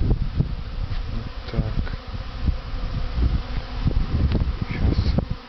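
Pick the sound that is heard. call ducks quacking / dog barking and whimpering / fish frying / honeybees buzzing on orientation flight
honeybees buzzing on orientation flight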